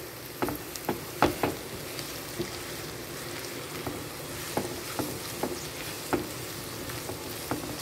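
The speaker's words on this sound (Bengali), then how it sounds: "দেখো পেঁয়াজটা আর আলুটা দুটোই একটুখানি ভাজা হয়ে এসছে, আর একটুখানি ভেজে নেব" Onion and potato fry in a pan with a steady sizzle, punctuated by a dozen or so sharp clinks and scrapes of stirring at an irregular pace.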